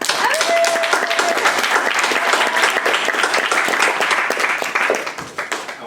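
Loud, dense audience applause at a book release event in a bookstore in Austin, sustained clapping that tapers slightly near the end, with a brief whistle early on.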